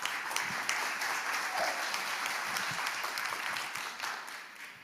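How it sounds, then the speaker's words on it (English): At a tech company's stage event in Seoul, an audience breaks into steady applause, a dense patter of many hands heard from a distance that gradually fades toward the end. "Please give a round of applause."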